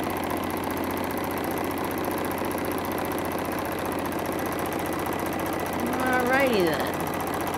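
A sewing machine stitching quilt blocks hums with a steady mechanical drone throughout, close and continuous, with a person speaking briefly near the end.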